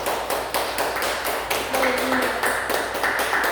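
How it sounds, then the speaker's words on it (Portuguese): A church congregation claps along in a steady, rhythmic beat that fills the room, with a few brief voiced tones rising over the clapping. "Você pode dar uma salva de palmas a Deus?"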